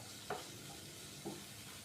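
Peas are stirred into a potato stuffing frying in a pan, with a soft steady sizzle underneath and two brief scraping stirs standing out.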